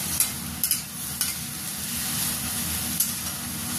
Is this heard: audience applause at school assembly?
no